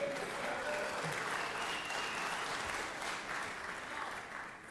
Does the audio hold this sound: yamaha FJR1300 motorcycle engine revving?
no